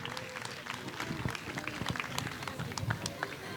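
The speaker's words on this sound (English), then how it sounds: "Everyone, please give them a big round of applause." An audience at a pre-primary school sports day claps steadily, with scattered individual hand claps and light crowd murmur making up an even, moderately distant round of applause.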